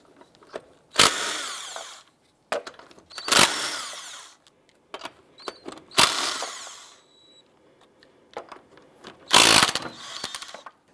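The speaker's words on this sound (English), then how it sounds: "Using a 19mm socket, let's go ahead and remove our lug nuts." Lug nuts being removed with a 19mm socket on a 2001–2005 Honda Civic, with several loud bursts of a power tool spinning off nuts separated by quieter clicks and handling noises.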